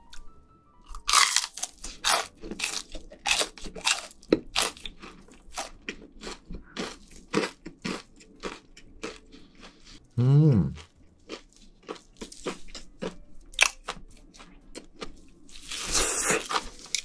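Crunchy fried chicken tenders are bitten and chewed up close in a rapid series of sharp crackling crunches, with short pauses between bites and no talk.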